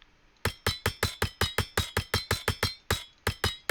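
Building a drill on a resource in the video game Surviving Ceres produces a fast, even series of about fifteen sharp metallic hammer-like strikes, loud and close, with no talk.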